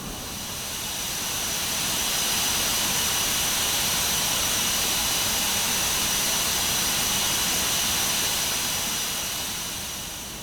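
Sustained high-pitched whine and roar of a Tornado F3 jet engine in a Prepar3d flight simulator, steady and loud as it swells up, holds, then tapers slightly, with no talking.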